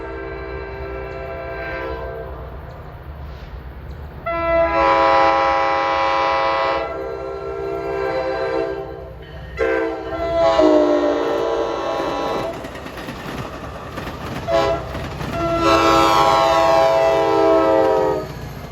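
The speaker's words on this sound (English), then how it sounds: "Here comes 1178 from Suffern to Hoboken" An NJ Transit diesel commuter train running from Suffern to Hoboken passes close by, its loud multi-tone horn blasting in several long bursts over the steady rumble of the engine and the rolling wheels.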